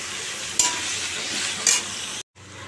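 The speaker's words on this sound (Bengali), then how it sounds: "এটা দিয়ে এবার ভালো করে এটাকে নাড়বো চাড়বো দশ মিনিট" Egg curry is stirred in a pan over steady frying sizzle, with two sharp spatula scrapes against the pan, then a brief gap before the sizzle resumes.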